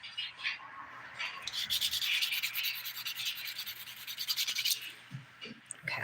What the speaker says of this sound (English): I'm using the 180 grit side of this file.